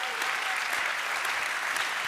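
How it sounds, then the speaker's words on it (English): Applause from a conference audience for Carlotta Cataldi at an opening session, an even wash of many hands clapping at a moderate distance, steady throughout with no voices on top. "So, Carlotta Cataldi, a big applause for her over there,"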